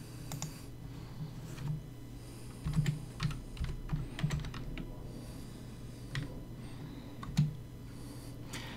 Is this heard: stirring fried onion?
no